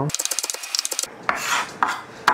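A knife chops thin tomato slices on a cutting board for a spinach tomato spaghetti, a quick run of about a dozen close, crisp rhythmic taps, then a few slower, heavier scraping strokes.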